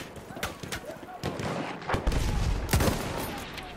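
Enemy machine gun fire in the video game Battlefield 1, with several sharp gunshot bursts cutting through busy battlefield noise, close and loud, while people talk over the action.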